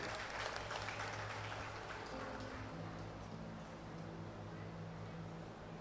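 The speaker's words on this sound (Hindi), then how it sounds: "एक बार ताली बजाकर स्वागत कर दीजिए" An audience claps to welcome guests at an SKD Group of Education felicitation ceremony, a dense sustained patter of many hands with steady low hum beneath, gradually thinning slightly toward the end.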